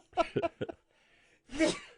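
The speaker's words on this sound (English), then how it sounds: "Now I'm sneezing." Someone sneezes in a quick string of short bursts, then one fuller sneeze after a brief pause, close and fairly loud.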